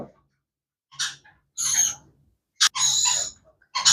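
Rainbow lorikeet chicks give short, harsh, raspy calls close up, four or five separate bursts broken by brief silences, with no talk over them.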